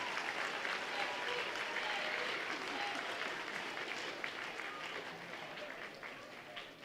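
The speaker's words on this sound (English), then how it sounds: "So another round of applause." Steady, broad applause from a middle school audience at a teacher award assembly, sustained for several seconds with faint voices mixed in, gradually easing near the end.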